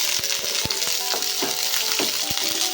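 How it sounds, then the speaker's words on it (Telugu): Ivy gourd frying in oil with onions on medium flame, a loud close crackling sizzle with scattered sharp pops and spoon clicks, continuous with no talking. "సో ఉల్లిపాయలు కొంచెం వేగిన తర్వాత దొండకాయలంతా కూడా వేసేసుకుందాం."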